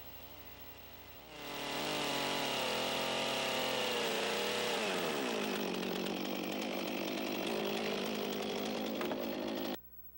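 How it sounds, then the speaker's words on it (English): A chainsaw cuts a timber roof-truss tenon for a log cabin, revving up after a brief idle and holding a loud, steady cutting whine for about eight seconds before stopping abruptly. "Cut and dress the tenon to size."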